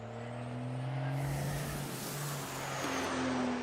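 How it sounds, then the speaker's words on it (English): A garbage truck sound effect plays loudly and steadily, with a heavy engine rumble and a long hiss of air brakes, with no talk over it. "Roll the garbage truck."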